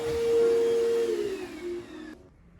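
A vacuum cleaner runs on a Temu rug with a loud, steady motor whine that falls slightly in pitch, then cuts off abruptly near the end.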